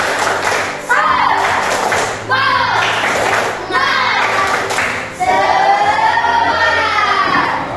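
A children's class does a rhythmic 'tepuk semangat' clapping chant in a classroom, with loud young voices chanting in bursts over steady beats of claps.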